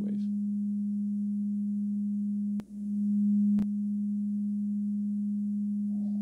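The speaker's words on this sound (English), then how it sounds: "if we turn the Q up to about 3/4 of the way, you'll hear it starts to self-oscillate" A pure, steady sine tone hums continuously from a synthesizer filter self-oscillating with high resonance, broken by two brief clicks partway through, with no talking.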